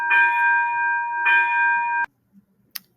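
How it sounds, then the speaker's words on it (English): A small bell rings twice with a clear, sustained metallic tone, each strike close and loud, then cuts off abruptly into near silence with a faint click. "Sorry about that little bell there."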